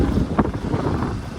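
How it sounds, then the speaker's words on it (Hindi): Strong wind buffets the microphone while riding a motorbike on a mountain village road near the India–China border, a loud, gusty rumble with uneven bursts and no speech. "क्या विंड ब्लास्ट आ रहा है भयंकर।"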